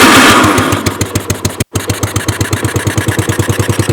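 A vintage three-wheeler motorcycle engine, just rejetted, fires up loudly after a brief cranking roar, cuts out for an instant, then settles into a steady, close, chugging rhythm of even pulses.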